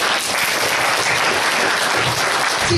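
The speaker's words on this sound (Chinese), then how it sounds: "拍手给上帝哦" A church congregation applauding together, dense and loud continuous clapping close by for a few seconds with no talk.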